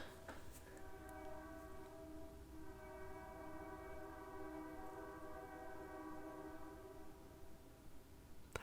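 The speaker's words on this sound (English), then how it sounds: "That's a loud train." A loud train passes nearby, its horn blaring with steady sustained tones over a broad rumbling wash of rail noise that holds for the whole stretch.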